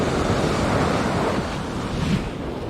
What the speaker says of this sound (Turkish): Deniz biraz oynak hareketli.